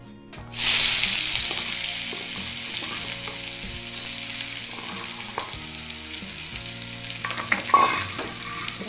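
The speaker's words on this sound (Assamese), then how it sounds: "এয়া তেলখিনি প্ৰায় গৰম হৈ গ'ল আৰু ইয়াতে আমি এতিয়া পিঁয়াজ দিম।" Onions hit hot oil in a pan with a sudden loud sizzle that settles into steady frying, and occasional scrapes and clinks of stirring come through close by.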